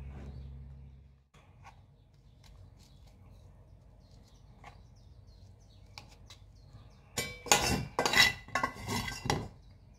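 Eggplant slices are set into a baking pan for oven-baked eggplant and zucchini with bacon: quiet rustling and small taps, then a burst of metallic clatter and clinks near the end.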